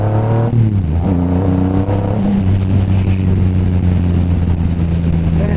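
A motorcycle pulls away hard in second gear, its engine note rising in a loud, close, climbing whine after a brief dip at a gear change, sustained to the end without talk.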